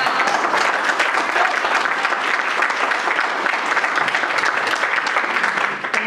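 Audience applauding for Dr. Burns at the close of a presentation, a continuous, full burst of clapping across the room that fades out abruptly at the end.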